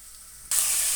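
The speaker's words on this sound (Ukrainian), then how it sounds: "Так, і це все ретельно перемішуємо." Fresh paprika, corn and peas being stirred in a hot pan for mushroom risotto, with a sudden loud, steady sizzle bursting in halfway through after near silence.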